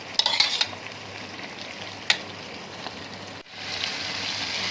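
Shinwari mutton karahi sizzles steadily in the pan as yogurt is stirred in, the frying hiss broken by a few scraping clinks of the spoon near the start and midway, then swelling into a fuller, brighter sizzle.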